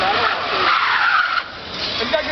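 An electric race car brakes hard, and its tires give out a loud sustained skid and squeal that fades after about a second and a half, with voices in the background.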